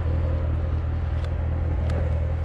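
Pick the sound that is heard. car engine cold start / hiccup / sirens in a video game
car engine cold start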